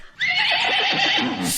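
A horse gives one long, loud whinny that rises and then trails off in a wavering fall, heard alone with no voices.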